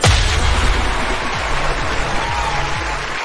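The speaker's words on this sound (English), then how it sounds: "That crowd is going crazy." Applause and cheering from an excited crowd opening a sales-themed show: a dense, continuous wash of clapping that starts loud and holds steady throughout, with no voices standing out.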